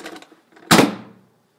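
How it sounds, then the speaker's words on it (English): A single sharp whoosh-thump from an Airzooka air vortex cannon, loud and close, fading quickly after a short faint rustle. "I did all that with my new airzooka."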